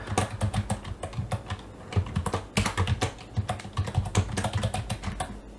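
Someone types a password on a computer keyboard, a quick, close run of crisp key clicks in uneven bursts, with no talk over it.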